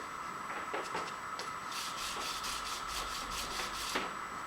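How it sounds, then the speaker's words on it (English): Hand sanding along the edge of a silver bracelet, a soft steady rubbing that runs through the whole stretch with brief scratchy strokes, close and moderately quiet with no talking. "in fact, let's get it sanded first"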